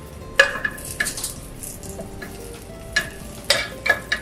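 Scrambled eggs and spinach cook in a frying pan, giving a steady low sizzle broken by sharp clinks of a utensil against the pan, close and fairly loud.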